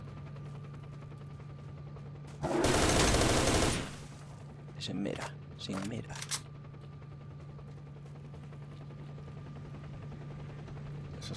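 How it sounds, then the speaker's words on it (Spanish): A helicopter firing guns in the S.T.A.L.K.E.R. video game: one sustained loud burst of automatic fire over a steady mechanical hum, followed by a short voice and a few quieter sounds. "Eso es el helicóptero lo que dispara."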